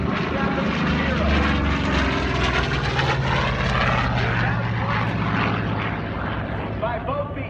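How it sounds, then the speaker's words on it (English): Japanese Zero WWII fighter flying at an airshow, its propeller engine droning loud and steady, the pitch sliding as it passes, with a voice talking over it. "This aircraft, the Japanese Zero"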